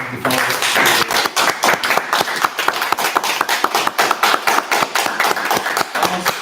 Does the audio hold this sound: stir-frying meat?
no